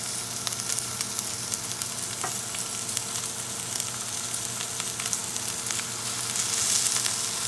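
A ribeye steak sizzles steadily on a cast iron griddle, a dense, continuous hiss with scattered small pops, close and fairly loud throughout without any talking.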